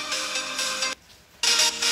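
Music playing loudly through the top and bottom stereo speakers of a Samsung Galaxy A53 5G phone with Dolby enabled, bright and full, cutting out briefly for about half a second before resuming.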